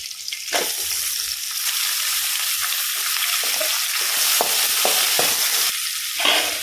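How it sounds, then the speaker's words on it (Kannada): Onion, ginger, garlic and chopped tomato fry in hot oil in a pan, a steady loud sizzle with scraping stir strokes and clinks running throughout, no voices. "ಈ ಈರುಳ್ಳಿ ಫ್ರೈ ಆಗಬೇಕು ಹಾಗೆಯೇ ಶುಂಠಿ ಬೆಳ್ಳುಳ್ಳಿ ಫ್ರೈ ಆಗಬೇಕು"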